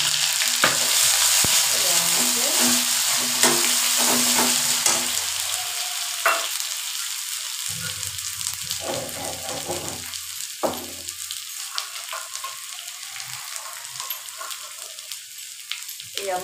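Potato and okra fry in a pan, a constant close sizzle with scattered stirring clinks and scrapes.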